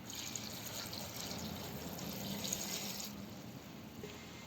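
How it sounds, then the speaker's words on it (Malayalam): Water pours steadily into a metal pressure cooker, a continuous splashing rush with a bright hiss that holds for several seconds. "കുറച്ച് വെള്ളം ഒഴിക്കുക"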